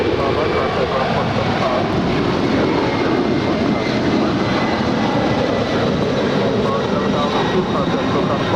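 Jet airliner of SF Airlines departing from LAX, a steady loud broadband roar of engines sustained throughout, with radio-like voice chatter faintly underneath.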